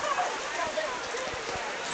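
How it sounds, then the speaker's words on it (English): Rain falls in a forest canopy as a soft steady hiss with a few faint drops, fairly quiet and continuous with no clear talk. "Folks are getting to see the rain."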